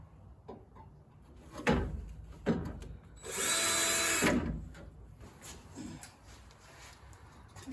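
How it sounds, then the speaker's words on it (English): A power drill with a dull bit bores into the body of a 1984 VW MK1 Rabbit in a sustained whine of about a second, set among scattered knocks and handling clatter in a garage. "we're gonna drill on the vehicle"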